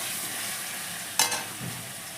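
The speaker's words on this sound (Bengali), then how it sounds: "এবার আলুটা 1-2 মিনিট একটু নেড়ে নিয়ে" Potato pieces frying in a pan for a vegetarian soya chunk curry give a steady close sizzling hiss, with one sharp spatula scrape near the end and no talking.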